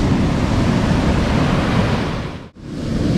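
Ocean surf rolling onto a beach at Cape Lookout, a loud continuous roar of breaking waves close by that briefly cuts out near the end, then returns.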